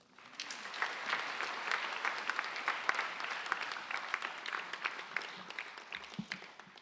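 Audience at a new student convocation applauds, a steady wash of many hands clapping that swells in and holds at moderate loudness before easing off.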